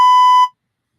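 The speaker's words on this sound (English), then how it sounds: "I actually don't know if that beep actually covers." A single loud, pure electronic censor beep of about half a second starts abruptly and cuts off, followed by silence.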